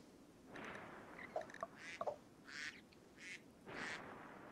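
Ducks in the colony-building game Rimworld quack in a series of short, soft nasal calls spread across several seconds, faint game sounds with no talk over them.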